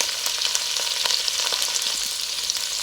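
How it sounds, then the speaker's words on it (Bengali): Shrimp fry in a hot pan while being flipped and turned, producing a dense, continuous crackling sizzle up close with scattered scraping stir clicks. "আমি চিংড়ি মাছগুলো একটু উল্টে পাল্টে ভেজে নিচ্ছি"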